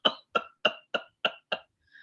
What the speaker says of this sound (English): So, in a case of pertussis, usually you have a serious bouts of cough.